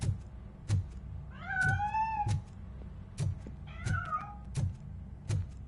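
A cat meows twice in long, wavering calls from inside a piano, set against a steady run of low dull knocks and thumps that repeat roughly every second.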